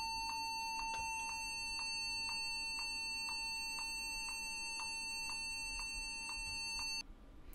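A Windows laptop beeps steadily during startup, about every half second, a clear high tone sounding a dozen times before cutting off near the end.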